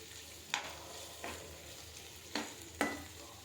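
Chicken gizzards fry in oil with a soft steady sizzle, broken by four sharp stirring scrapes spaced through the clip; no one speaks.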